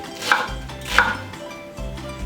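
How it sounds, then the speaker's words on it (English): A knife chops onion into rough chunks on a cutting board while tamales are being made, with several crisp, evenly spaced thuds close by and no talking. "Just a nice rough chunky cuts of onion."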